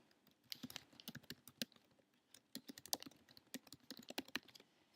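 Fingers type on a computer keyboard to log in, a rapid, irregular patter of light key clicks in short bursts, close and quiet, with no talking.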